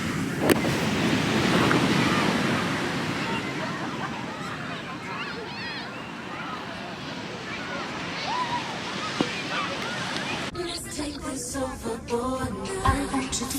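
Ocean surf at Byron Bay beach on Australia's east coast rolls in a continuous wash of waves, mixed with wind buffeting the microphone and a brief burst of louder noise near the end.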